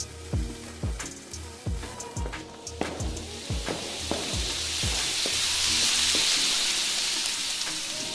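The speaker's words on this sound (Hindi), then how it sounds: "एक अनार जलाता है" An anar fountain firework burns with a steady, rising hiss and crackle that swells to a broad roar, while loud nearby bangs from other firecrackers punctuate the first half.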